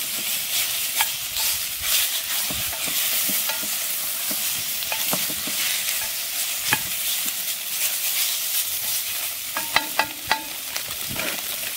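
Sheep tails fry in a pot, giving a continuous bright sizzle with crackles and spits, broken now and then by the scrape and clatter of stirring, close by and without talking.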